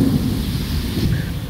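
A deep, loud rumble of thunder rolls through a rainstorm, brief and continuous, with no talking.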